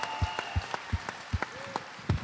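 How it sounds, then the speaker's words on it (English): Audience applause at a panel discussion event, heard as sparse, fairly evenly spaced individual claps, quiet and close, about eight distinct hits rather than a full ovation. "Can we give her a round of applause?"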